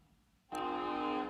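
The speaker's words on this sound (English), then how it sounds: "Let this train go by." A passing train sounds its horn, a sudden loud, steady, harmonically rich blast that starts after a quiet moment and holds for nearly a second, close and dominant.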